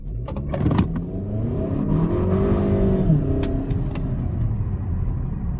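A 2020 Kia Optima SXL pulls away hard in eco mode with no brake boost, its engine note rising in a steady, continuous rev that climbs over several seconds, close by and loud, with no talking.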